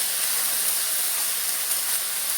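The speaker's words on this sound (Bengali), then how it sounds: "তবে আমি আস্তে আস্তে আগুন দিয়ে ভেজে ভেজে ভাজবো।" Pumpkin shoots fry over a slow flame in a pan, giving a steady, loud, unbroken sizzle and hiss that lasts the whole stretch, with no voices.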